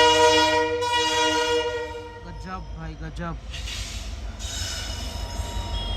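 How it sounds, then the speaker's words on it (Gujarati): A WDG4 diesel locomotive pulling a train sounds a loud, sustained horn, then short honks and a heavy engine hum as it arrives near Rajkot, with a man exclaiming over it. "સામેથી કોઈ ડીઝલ ટ્રેન ડીઝલ સાથે અરાઇવલ લઈ રહી છે."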